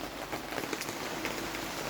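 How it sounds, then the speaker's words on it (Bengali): Heavy rain pours steadily outside, a dense, even hiss of drops striking surfaces, close and continuous with no voices. "প্রচণ্ড বৃষ্টি হচ্ছে।"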